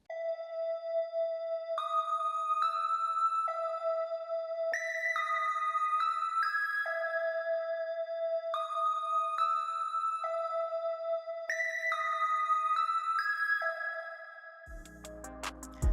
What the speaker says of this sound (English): So for this one, we used the preset called HS Enhanced Stereo Flute